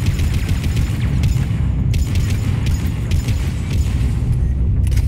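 Frag grenade explosions and combat noise in Mass Effect 3, a steady loud rumble with sharp bursts of gunfire-like cracks and no talk.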